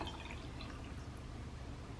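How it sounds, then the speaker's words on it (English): Water pours steadily from a jug onto bedroom houseplants, a continuous soft splashing trickle throughout at low level. "There we go, and we just add water."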